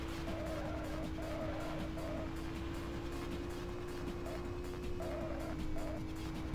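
Lamborghini engine in the racing video game Autobahn Raser, a steady, droning hum that holds at constant pitch throughout at moderate loudness, with faint chirping game tones layered on top.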